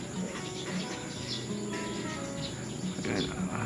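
Racing pigeons at a loft, with faint, scattered chirps and calls over a thin insect-like chirring background, distant and low in level.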